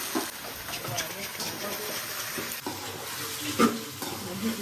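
Gobi (cauliflower) frying and being stirred in a pan, a soft steady sizzle with occasional scraping stir strokes, while voices talk over it.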